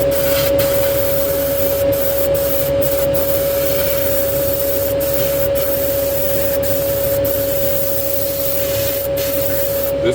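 A paint spray gun lays a medium coat on a 1965 Chevy Impala, giving a loud, close, continuous hiss with a steady underlying tone, broken only by brief pauses in the spray.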